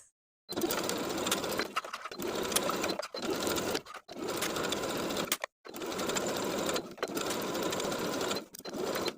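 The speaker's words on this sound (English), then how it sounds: "Top stitch all the way around with a zigzag stitch of a 3mm length and width" A sewing machine runs zigzag top-stitching around swimsuit elastic at the leg openings, whirring in several steady bursts with brief pauses between them, close and alone.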